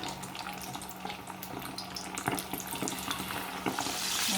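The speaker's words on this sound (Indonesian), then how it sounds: "Masukkan ayamnya satu-satu." Chicken pieces go one by one into hot oil for Korean-style sesame fried chicken, bubbling and crackling close up and swelling into a louder sizzle toward the end, with no talking.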